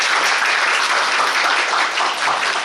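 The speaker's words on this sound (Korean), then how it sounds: "큰 박수 부탁드립니다." A theatre audience at a musical's closing-night curtain-call applauds the costume and makeup staff, pianist and percussionists, a thick, continuous roar of clapping that stays loud and even throughout.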